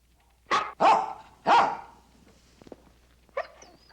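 A dog barks three times in quick, loud succession, then lets out a fainter fourth bark after a short pause, with no one speaking.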